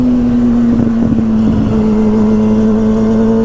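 Jigsaw 750 off-road vehicle with a painted cage and wheels, its engine holding a steady loud idle drone, close by, with brief rougher bursts early on and no talk.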